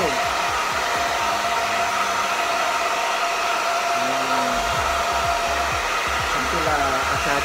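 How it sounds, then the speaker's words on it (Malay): Hair dryer blowing hair dry, roots first, a loud steady whoosh running the whole time with no one speaking. "So saya akan terus blow dry bagi semua kering, especially daripada root kepala."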